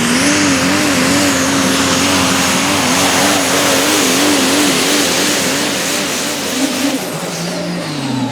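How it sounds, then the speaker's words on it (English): A diesel super stock pulling truck engine roars loud and sustained at a pulling event, with a wavering high-revving drone and wide crowd-like noise underneath, ending as the pitch drops. "we got that diesel super stock that's firing up down there"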